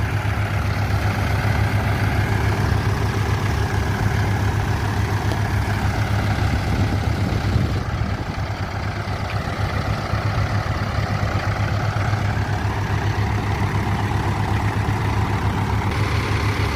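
Mahindra 575 DI XP Plus tractor engine pulling in first load gear, a steady loud diesel rumble with a deep low throb that holds evenly throughout, with no voices.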